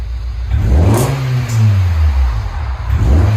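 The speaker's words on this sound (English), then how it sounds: "Nice deep. It's different. 1320 muffler." A 1995 Honda Del Sol with an inline-four, five-speed and a 1320 stainless steel muffler revs up close by, its deep exhaust note rising and falling through two or three loud throttle blips with no talking.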